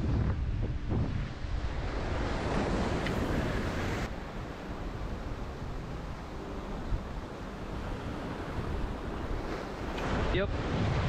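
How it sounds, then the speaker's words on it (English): Heavy ocean surge rolling against a remote island shore during a saltwater fishing trip, with a continuous roar of surf and gusting wind buffeting the microphone. "Water's got so much surge"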